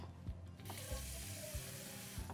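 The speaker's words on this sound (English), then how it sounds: "I'll put a little water in a bowl." Tap water running into a kitchen sink and filling a bowl, a close, steady splashing rush with a few clunks.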